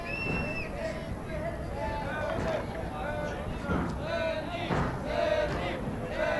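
At a women's three-wall ball final, a crowd chants a player's name in loud, rhythmic rising calls, with babble and shouting mixed in throughout.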